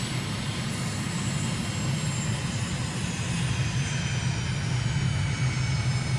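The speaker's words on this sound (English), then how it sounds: "Cleared for takeoff, so let's take the wheel brake off and get this show on the road" A jet airliner's engines roar steadily through a takeoff roll in Microsoft Flight Simulator at Lhasa, Tibet, a loud, continuous broadband rush with a deep low rumble and faint high whine, no voices over it.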